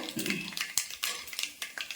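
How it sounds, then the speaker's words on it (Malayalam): Mustard and fenugreek seeds crackle and pop irregularly in a hot pan, sharp little snaps over a faint sizzle, close by. "നമ്മുടെ കടുക് പൊട്ടിയിട്ടുണ്ട്."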